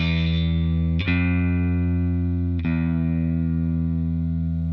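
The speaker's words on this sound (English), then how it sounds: "This is a minor second." Low sustained synth notes alternate between two pitches a half step apart, distorted and buzzy, shifting twice, the ominous minor-second motif of the Jaws theme.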